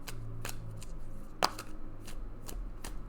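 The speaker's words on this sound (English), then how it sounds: "I can't shuffle them that way. Shuffle them this way." Tarot cards are shuffled by hand close up, a run of quick riffling card slaps and soft shuffles in uneven bursts, alone with no talking.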